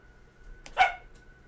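A single short dog bark sounds at a moderate distance, a brief sharp burst against a quiet room with a faint steady hum.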